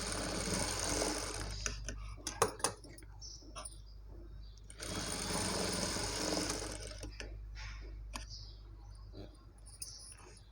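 A sewing machine stitches the seams of a baby frock for a 0-2 month old in two steady whirring runs separated by pauses, with close handling clicks and fabric shifting between bursts.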